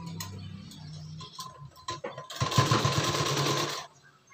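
Sewing machine stitching a fitting seam on a prince-cut designer blouse: a few short ticking starts, then a steady rapid whir of stitching for about a second and a half before stopping, close and clear.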